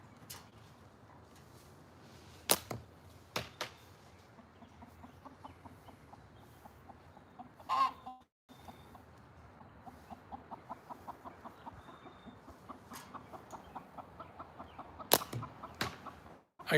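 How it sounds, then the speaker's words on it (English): Backyard chickens roaming loose in a yard cluck in steady repeated bursts, with a few louder sharp calls standing out over the quieter pecking chatter. "Every once in a while, I let my chickens out in the yard to roam around"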